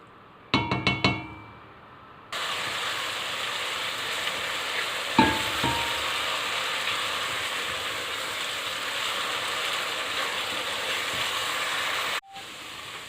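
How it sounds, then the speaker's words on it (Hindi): Onions dropped into hot oil for a fried egg masala curry start a dense, continuous sizzle after a few quick clinks, frying steadily up close with a single stir-knock partway through before cutting off abruptly. "अब इस प्याज को हम ब्राउन करेंगे, ब्लैकिश ब्राउन नहीं, मीडियम ब्राउन"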